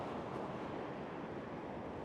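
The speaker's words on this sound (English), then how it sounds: "The waves are washing it sideways." Ocean surf rolling onto a beach in a howling south wind, a continuous broadband wash of breaking waves mixed with gusty wind buffeting the microphone, steady and fairly loud throughout.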